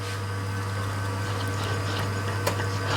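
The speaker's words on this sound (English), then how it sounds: "Press the water again to clean it." Water rushes steadily from an espresso machine's group head during a daily cleaning flush, a constant hissing pour with a low pump hum beneath, close and unbroken for a few seconds.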